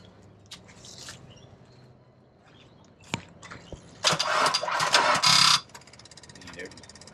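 A car engine cranks and catches on a Topdon jump starter after its battery sat disconnected, a loud burst of starting noise for about a second and a half, then settling to a quieter idle, with some handling noise beforehand.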